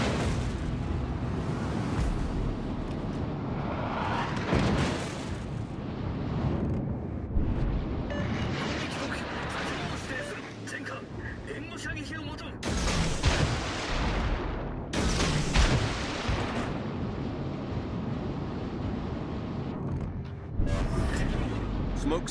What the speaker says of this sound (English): All stations, concentrate fire on the target. Concentrate fire on the enemy warship.